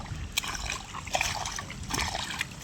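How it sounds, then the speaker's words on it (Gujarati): Runoff water from farm fields trickling and splashing steadily nearby, a continuous liquid gurgle with a few brighter splashes, no voices. "આ ખેતરનું પાણી આવે, બધા ખેતર છે ને એનું પાણી આવ્યા કરે"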